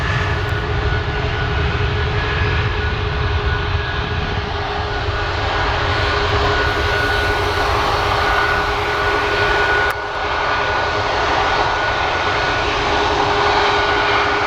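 A Delta airliner roars steadily as it departs from Portland airport, a loud, continuous engine rumble with a constant whine and no talking.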